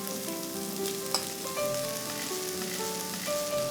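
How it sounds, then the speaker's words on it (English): Corn, rajma and rice sauté in a pan with a soft, steady sizzle and a light stirring scrape, heard faintly beneath gentle background music. "We'll saute for a few seconds"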